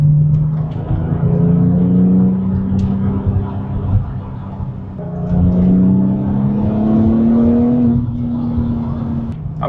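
A Porsche 996 Turbo heard from inside the car while driving, its engine droning steadily and rising in pitch as it pulls through the gears, with a brief dip between pulls and constant road and wind noise underneath.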